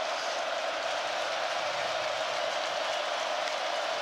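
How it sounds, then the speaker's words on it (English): Steady roar of a football stadium crowd at a Miami Hurricanes at Cal college game, a continuous broad wash of cheering and noise with no clear breaks, no voices distinct. "Here comes the crowd."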